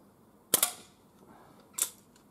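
Two sharp cracks from an SMK CP2 .22 air pistol fired outdoors, spaced more than a second apart, each with a short snappy decay and no talking.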